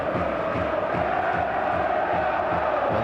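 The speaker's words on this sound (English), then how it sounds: "the noise you can hear now is of the home support" Home supporters at a West Brom v Watford football match roar in a dense, continuous stadium wall of cheering and chanting, steady and distant-sounding with no clear breaks.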